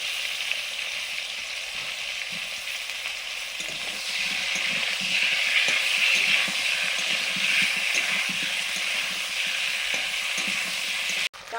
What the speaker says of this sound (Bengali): কাঁচকলা আলু ফোড়নের সঙ্গে ভাজা হয়ে গেছে